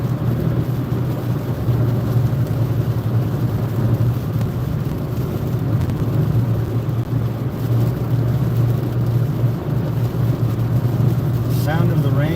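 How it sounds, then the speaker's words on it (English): Rain and car tires hiss on a wet street during a highway drive in North Carolina, a steady broadband wash with low road rumble throughout, while someone talks over it. "Sound of the rain and the tires on the street, pretty soothing."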